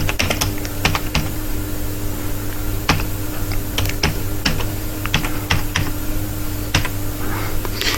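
A computer keyboard typing narration text into a sales and purchase voucher entry, with irregular close clicks and keystrokes that sound crisp and alone.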